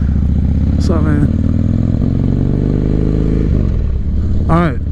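A 1985 Harley-Davidson FXR rumbles steadily while being ridden, its low, loud engine drone carrying throughout, with brief voice-like bursts over it near the start and end.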